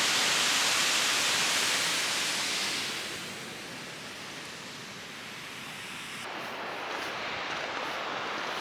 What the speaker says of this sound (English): The Falls of Glomach is one of the tallest waterfalls in Britain, with a drop of 130 metres.